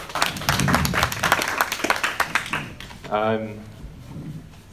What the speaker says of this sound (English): Little applause, please.